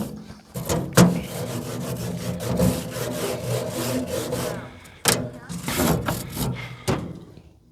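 A tool scrapes cooked pork off a hot cooking surface in repeated rough scraping strokes with a few sharp knocks, close up, while people talk.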